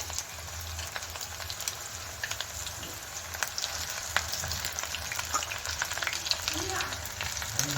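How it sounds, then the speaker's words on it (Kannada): Small pieces of sweet corn pakoda batter frying in hot oil, a steady close crackling sizzle with scattered pops running throughout, moderately loud and without speech. "ಇದನ್ನು ಕೈಯಲ್ಲಿ ಹೀಗೆ ತಗೊಂಡು ಜಸ್ಟ್ ಇದಕ್ಕೆ ಎಣ್ಣೆಯಲ್ಲಿ ಹೀಗೆ ಸ್ವಲ್ಪ ಸ್ವಲ್ಪ ಚಿಕ್ಕ ಚಿಕ್ಕ ಪೀಸಸ್ ಆಗಿ ಹೀಗೆ ಹಾಕೋಬೇಕಾಗತ್ತೆ"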